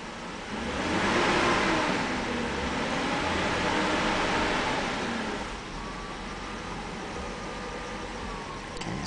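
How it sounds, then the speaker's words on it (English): A BMW E38 on a hoist runs with its wheels spinning, producing a steady mechanical drone with rising and falling whine tones as the ABS pump grinds, moderately loud and close with no talking. "that grinding sound is actually ABS pumping, because the one side is actually spinning faster than the other"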